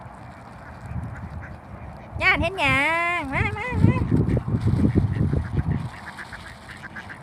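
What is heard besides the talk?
ducks honking, black and white Muscovy ducks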